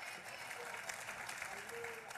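Applause from an audience in a played recording, a steady dense patter of many hands clapping at once, heard at moderate level for a couple of seconds without a break.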